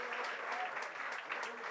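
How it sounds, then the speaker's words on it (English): Audience applause for the film team of A Flying Jatt at a Swachh Bharat promotional event, a steady dense clapping that fills the short stretch, fairly distant with faint crowd murmur beneath. "A huge round of applause for all the sporty trio of a flying Jatt."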